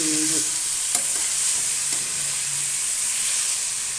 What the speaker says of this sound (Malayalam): ഇഞ്ചി, വെളുത്തുള്ളിയും പച്ചമുളകും ഇട്ട് അതിനെ നല്ലതുപോലെ ഇളക്കി ഉപ്പ് അതിലേക്ക് ചേർക്കും